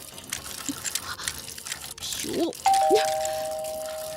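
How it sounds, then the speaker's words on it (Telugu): A leaky kitchen tap drips into a sink indoors: a few distinct plinking drops stand out near the end, a brief ringing tone follows, and a voice gives a short exclamation. "ఆ ట్యాప్ కారుతూనే ఉంది"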